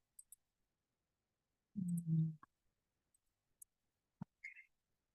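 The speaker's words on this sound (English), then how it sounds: "I'm clicking." A computer mouse clicks on a link, a few faint sharp clicks scattered through near silence, with a brief low murmur of voice partway through.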